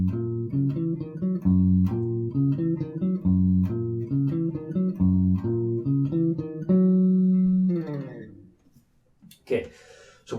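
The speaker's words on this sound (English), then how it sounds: "So the first riff we have sounds like this." Bass guitar playing the chorus riff of a song, a repeating run of clear plucked notes in a steady rhythm, ending on a held note before fading, with a brief rustle at the end.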